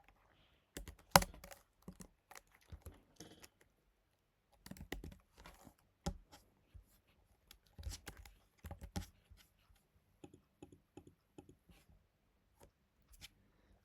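Someone types on a computer keyboard in sparse, quiet clusters of close key clicks, with one louder clack early and pauses between bursts.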